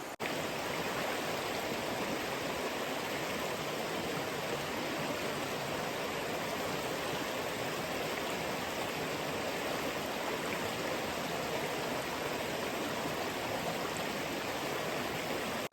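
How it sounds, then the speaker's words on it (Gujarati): Gentle, continuous rushing and babbling of a river flowing over slippery stones in a dense forest, a steady even wash of water sound at moderate level with no voices. "વચ્ચે જો ધીમે ધીમે ખળખળ નદી વહે છે"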